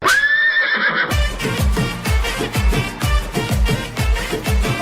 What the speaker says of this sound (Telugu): ఇది మా గుర్రం.